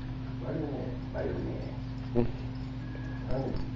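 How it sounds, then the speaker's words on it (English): During a family golf outing a dog whimpers and yips in short, faint bursts against a steady background hum, with people talking nearby. "Stop biting me, dog."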